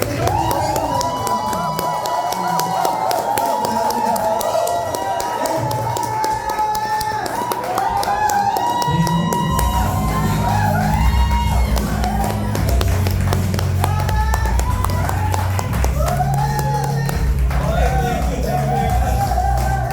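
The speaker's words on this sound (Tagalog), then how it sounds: "At milyong palakpak para kay Coach Michael Santos." Event audience clapping and cheering for Coach Michael Santos, a lively crowd roar with shouts and claps under music and an amplified voice through a PA.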